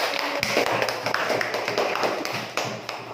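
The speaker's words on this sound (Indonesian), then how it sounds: "beri aplaus untuk kelompok 1" An audience claps for a presenting group in a classroom, giving a loud, dense burst of applause that continues steadily throughout.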